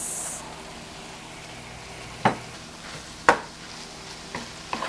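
Seafood fried rice made with day-old rice being tossed and stirred in a pan, several distinct scraping strokes of a spatula spaced about a second apart over a low background sizzle, close and quiet.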